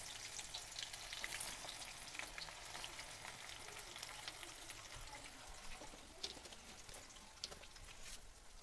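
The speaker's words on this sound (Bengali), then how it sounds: "পেঁয়াজটা ভাজা হতে থাক।" Chopped onions fry in a pan for a spicy chicken bhuna, giving a steady, dense sizzle with scattered crackles and pops throughout, close and even in level with no talking.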